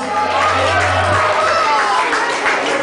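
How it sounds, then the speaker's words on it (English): Charity ball crowd at a mobile DJ gig erupting in loud cheering and clapping, a dense wall of whoops and claps with voices mixed in throughout. "Give yourselves a massive round of applause."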